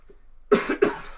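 Two sharp, close coughs in quick succession after a moment of near silence.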